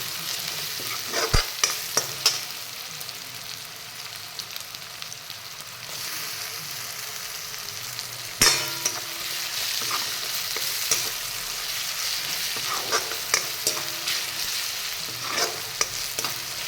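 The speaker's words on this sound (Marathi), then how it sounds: "मी हा मोठ्या गॅसवरती सगळं शिजवून घेत आहे।" Chopped tomatoes sizzle steadily in a pan over a high gas flame for a masoor dal, with scraping stirs and occasional knocks of the spoon against the pan.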